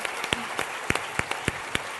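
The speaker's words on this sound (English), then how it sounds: "Give him a round of applause for that." Applause from a crowd, a brief stretch of clapping with a few sharp, distinct claps standing out near the front.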